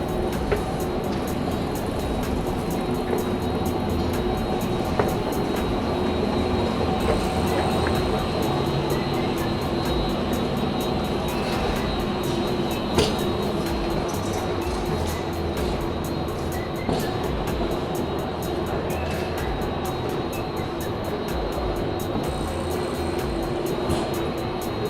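A New York subway train rumbles into an underground Manhattan station, with a steady loud roar and faint wheel squeal filling the platform throughout.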